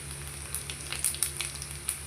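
Garlic and cumin frying in hot oil for sambar: a soft, steady sizzle with a few sharper crackles, fairly quiet and close, with no talking.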